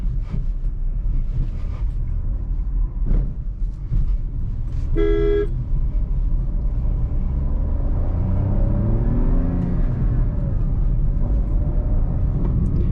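A Maruti DZire drives on a highway as its engine is pulled harder, a steady low road rumble that builds slightly, broken midway by a short, sharp horn toot.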